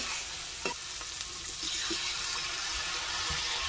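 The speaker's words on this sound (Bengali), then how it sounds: "এখন দিয়ে দেব গ্রেভির জন্য জল।" Water poured into a pan of fish curry gravy, a steady rushing splash with a sizzling, bubbling edge that runs for a few seconds with no talk.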